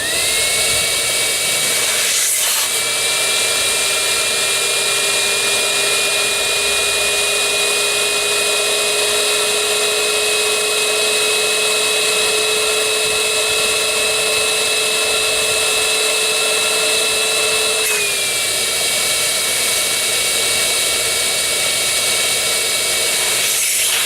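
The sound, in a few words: two-stage blower inflating Creature Craft cross tubes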